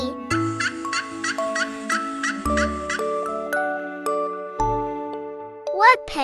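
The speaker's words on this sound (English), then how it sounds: "Turkey." A turkey lets out a loud, rapid gobbling rattle of repeated pulses over the first two seconds, heard up close over a light chiming tune, with a brief squeaky call near the end.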